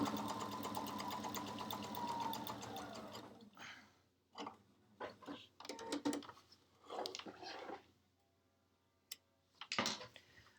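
A sewing machine runs stitching quilt rows together, a loud continuous whir at first, then stops and gives way to softer intermittent clicks and handling noises.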